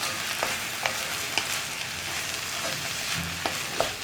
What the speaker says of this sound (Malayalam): ഇനി ഇതെല്ലാം ചേർത്ത് ഒന്നുകൂടി ഒന്ന് ഇളക്കുക.